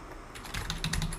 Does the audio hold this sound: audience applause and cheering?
no